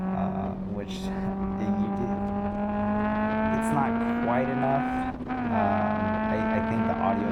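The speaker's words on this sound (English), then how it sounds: "I think the audio still peaks because this exhaust is just stupid loud." Catless car exhaust with OEM headers, a test pipe and a 3-inch single exit, droning loud and steady with a strong low tone at a wet track, rising slightly in pitch before a brief dip and recovery.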